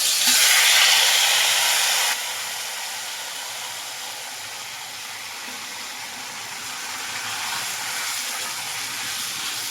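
Chicken marinated in yogurt, turmeric and a little oil sizzles as it hits a hot wok for a curry, a loud burst of hiss for the first two seconds settling into a steady, softer frying crackle with no talk.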